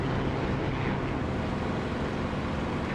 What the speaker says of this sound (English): I'll close the canopy and you'll hear the engine sound change.